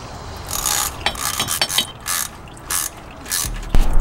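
A ratchet screws a factory fitting back onto a 10R80 transmission cooler, close and loud, in quick bursts of rapid clicking broken by short pauses, ending with a firmer clunk.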